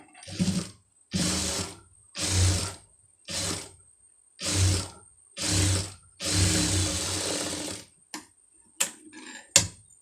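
A sewing machine stitching a fold of fabric, running in repeated short bursts separated by pauses, close and fairly loud, with a few quick clicks at the end.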